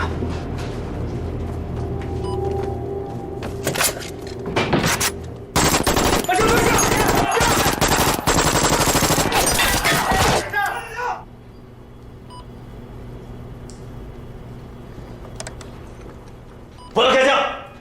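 Gunfire in a wartime drama scene, with scattered shots followed by a dense, loud burst of rapid automatic fire lasting several seconds, then quieter ambience and one final sharp burst.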